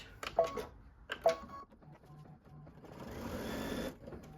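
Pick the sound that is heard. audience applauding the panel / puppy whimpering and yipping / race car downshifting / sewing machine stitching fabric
sewing machine stitching fabric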